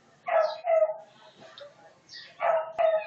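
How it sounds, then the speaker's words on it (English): A neighbour's beagle barks loudly in two short bursts of yelping barks, with a quiet pause between them and no talking. "You can also hear the dog barking."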